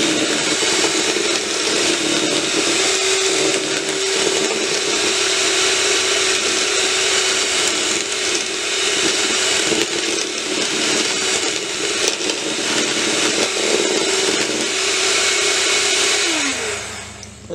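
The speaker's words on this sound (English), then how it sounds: "then you give that a whisk" Electric hand mixer whisking orange juice into carrot cake batter, a steady loud motor whir with a constant hum that continues unbroken for nearly the whole stretch before winding down at the end.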